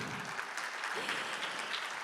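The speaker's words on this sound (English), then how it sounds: "Let's hear a big round of applause to welcome everyone joining us today" Conference audience applauding at a sustainability conference morning session, a steady dense wash of many hands clapping that runs evenly throughout at moderate, slightly distant loudness.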